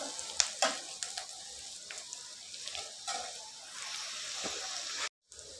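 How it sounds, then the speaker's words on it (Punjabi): Onions sizzle steadily in a pan while being browned for a potato curry, with occasional stirring clatters over the hiss and a brief dropout near the end. "ਜਦੋਂ ਤੱਕ ਐ ਚੰਗੀ ਤਰ੍ਹਾਂ ਲਾਲ ਨਹੀਂ ਹੋ ਜਾਂਦਾ ਉਦੋਂ ਤੱਕ ਪਿਆਜ਼ ਨੂੰ ਭੁੰਨਾਂਗੇ"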